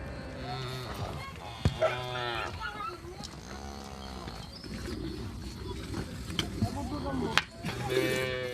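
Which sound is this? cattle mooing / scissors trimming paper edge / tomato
cattle mooing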